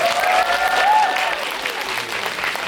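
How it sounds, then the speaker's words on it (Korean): An audience at a film screening talk with the director and poster designer gives a burst of applause, dense and fairly close, strongest at first and then easing slightly. "박수 한번 다."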